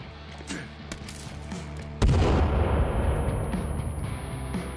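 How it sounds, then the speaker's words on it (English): A grenade explodes in the survival video game Sons of the Forest, a sudden loud burst that follows lighter game sounds and leaves a sustained rumbling roar through the remaining seconds. "There's no way you're getting up from that grenade."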